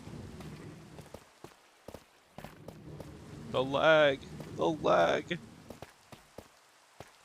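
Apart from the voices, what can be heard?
rain falling in a video game (Minecraft)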